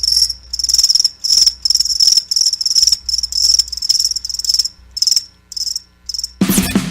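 Loud crickets trill in quick repeated bursts that run almost continuously, then break off abruptly into a sudden burst of broadband noise at the very end.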